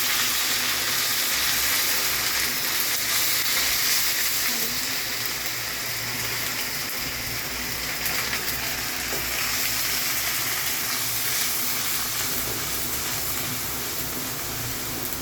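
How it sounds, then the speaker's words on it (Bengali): Chili powder, fenugreek paste, mustard paste and salt frying in oil for a raw mango pickle: a loud, continuous sizzle that holds steady for the whole stretch, with no voices. "মশলাটা ভালো করে ভেজে নেব"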